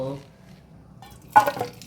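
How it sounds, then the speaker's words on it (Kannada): Cooking water drained off boiled jackfruit seeds in a home kitchen: a brief, close burst of pouring and splashing liquid arrives near the end, after a short stretch of speech. "ಈಗ ಇದನ್ನು ಆಫ್ ಮಾಡಿಕೊಂಡು ಇದರ ನೀರನ್ನು ಸಪರೇಟ್ ಮಾಡ್ಕೊಳ್ತಿದ್ದೇನೆ."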